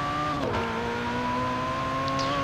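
A Ferrari 488 Pista engine in the racing game Forza Horizon 4 holds a steady high, tonal drone with a brief pitch dip and shift, loud and continuous without speech.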